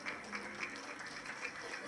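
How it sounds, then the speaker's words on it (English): Audience applause for debut participants and their escorts at a debut celebration, a soft, steady patter of many hands clapping at a distance, fairly faint and continuous with no speech over it. "let us give them another applause"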